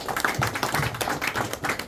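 An audience at a community gathering with a regency head and residents in Bali claps hands, a dense run of quick, overlapping claps and taps at moderate loudness under faint voices.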